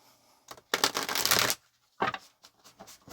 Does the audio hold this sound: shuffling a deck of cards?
yes